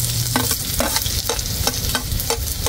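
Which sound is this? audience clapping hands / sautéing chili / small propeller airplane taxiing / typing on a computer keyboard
sautéing chili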